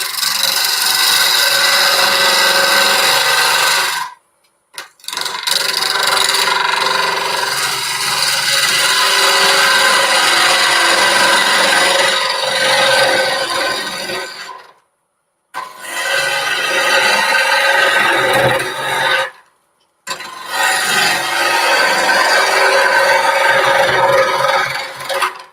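A gouge cuts hard pine spinning on a woodturning lathe, producing loud, continuous rasping and shrieking in long passes separated by brief silences where the tool is lifted away.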